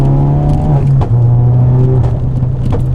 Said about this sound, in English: that noise when you let off in like 4th gear under full throttle, like the triple bang